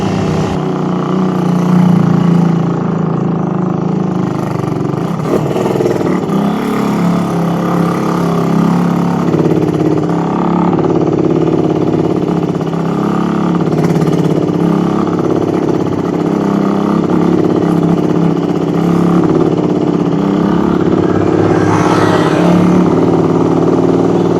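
A carbureted Raider 150 motorcycle engine labors in first gear up a steep road, a steady loud mid-pitched drone that strains continuously throughout, close to the rider with no talk.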